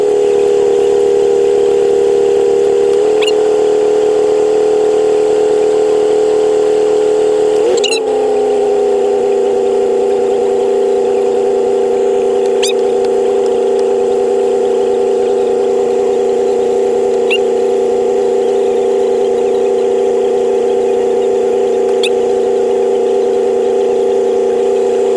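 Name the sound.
car engine running through gears with rebuilt transmission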